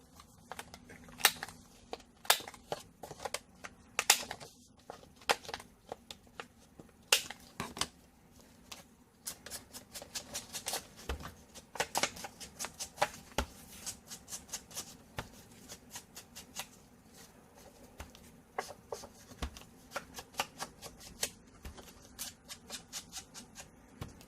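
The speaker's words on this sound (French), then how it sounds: "je vais couper les angles du papier" Scissors snip the corners off a sheet of paper while a planner is being decorated with craft supplies: a close run of sharp clicks and cuts with light paper rustling and handling noise throughout.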